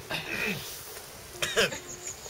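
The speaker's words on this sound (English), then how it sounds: "Just have to clear my throat." A person clears their throat twice in short rough bursts, close by, with a brief pause between.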